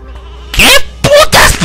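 Sheep bleat loudly in the Ratchet & Clank 2: Going Commando video game, two or three close, wavering cries in quick succession.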